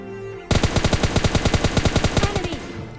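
Automatic gunfire in PUBG Mobile Lite starts abruptly and continues as a rapid, evenly spaced burst of about twenty loud close shots, trailing off at the end.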